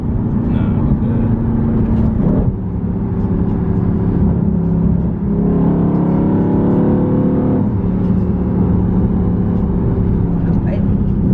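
A Dodge Scat Pack car downshifting and revving, loud and close from inside the cabin, with engine tone rising and falling through several gear changes across the stretch.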